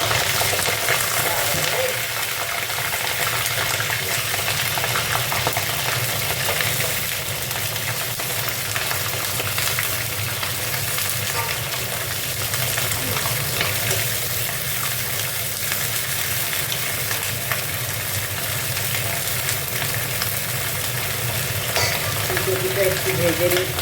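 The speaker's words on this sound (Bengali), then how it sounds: "ফুলকপিটা একটু ভেজে নিচ্ছি।" Cauliflower frying in oil in a pan with cumin, chili and coriander powder, after potatoes, gives a loud, steady, close sizzle that runs continuously with faint stirring scrapes.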